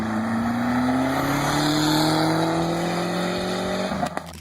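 A 1987 Dodge Shelby Charger GLHS engine revving hard and rising steadily in pitch, loud and rough, ending with a quick lift-off and a few clicks.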